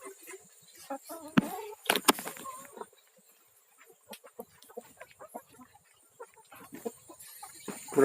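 Chickens cluck and call in a small backyard coop, with short scattered clucks and one louder squawk burst near the start, then sparse, fairly close bird calls over quiet background.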